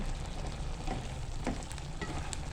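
Chicharon sizzles and crackles in a pan with tomato, sweet potato and malunggay as it is stirred, a steady close frying hiss with occasional scraping clinks and no talk.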